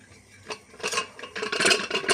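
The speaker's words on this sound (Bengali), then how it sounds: "পুরো প্রেশার কুকারটায় একটু সর্ষের তেল মাখিয়ে নিতে হবে" Mustard oil is rubbed by hand over the inside of a metal pressure cooker: soft scraping and rubbing strokes, close and fairly quiet, coming in short uneven bursts with no talking.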